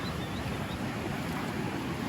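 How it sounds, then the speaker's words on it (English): The Colorado River flowing through the Grand Canyon, a steady, broadband rushing wash of water heard close and even throughout, with no voices. "So here's the Colorado River."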